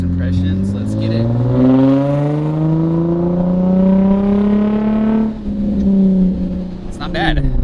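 An Infiniti G35 with a custom interchangeable exhaust revs up, holds, and drops back, close and loud, with a second rev at the end.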